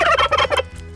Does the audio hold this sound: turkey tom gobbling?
yes